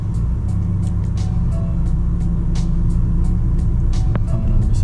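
Driving-school car rolling slowly forward on a residential street, a low steady engine hum and tire rumble close inside the cabin, with faint clicks and a brief squeak near the end and no talk.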